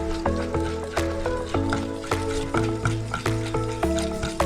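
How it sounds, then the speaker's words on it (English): Sauce being mixed into pork for a Mongolian pork dish makes repeated wet stirring strokes, roughly every half second, close and steady over a soft musical background. "So I'm gonna mix that sauce in there."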